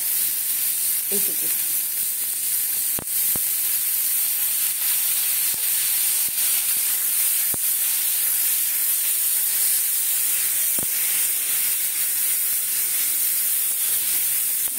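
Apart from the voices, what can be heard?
ginger-garlic paste sizzling in hot oil with mushrooms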